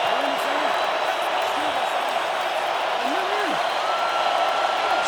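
A roaring stadium crowd at an NFL wild card playoff game between the Arizona Cardinals and Los Angeles Rams, a steady wall of loud noise with faint whistle-like cries rising above it.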